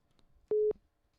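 Telephone busy signal after a dropped call: one short steady electronic beep, loud and clean, standing alone against near silence.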